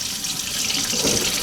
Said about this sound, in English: We're going to get the water going.